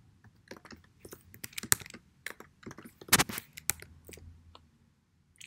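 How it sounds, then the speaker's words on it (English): Fingers type a formula on a computer keyboard, a close run of crisp, irregular key clicks that bunches into quick bursts and then trails off, with no talking. "I'm going to type in a formula that creates a circle"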